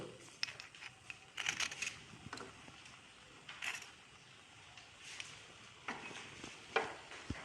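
A spoon scrapes and clinks softly in a bowl as salt, black salt, chaat masala and pepper powder are mixed for raw mango candy, giving light intermittent stirring taps at a low level.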